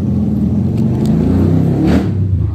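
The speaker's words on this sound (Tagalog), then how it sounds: "Ang ingay. Yung mga motor nyo" Motorcycles rev loudly nearby with a deep, rumbling engine roar that swells and surges over a couple of seconds, no voices present.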